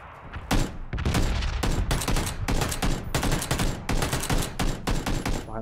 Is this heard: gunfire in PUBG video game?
yes